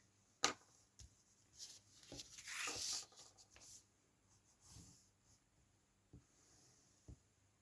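Tombow double-use glue is rubbed onto paper in quiet, close strokes and dabs, with a brief louder scraping swipe near the middle and scattered soft taps.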